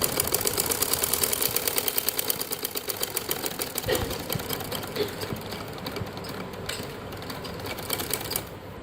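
An electric sewing machine stitches the seat of men's Bermuda shorts, its rapid needle chatter running loud and close at first, then easing into a softer, uneven whir toward the end. No one speaks.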